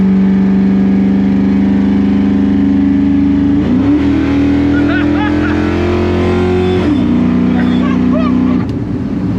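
An LS V8 engine in a Chevy C10 pickup truck rumbles steadily up close, with the revs rising in two surges as the motor is pushed, while people talk over it.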